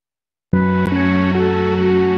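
A melody section from a video game soundtrack, a sustained tonal passage that enters suddenly after half a second of silence and holds steady chords while the upper line shifts between notes.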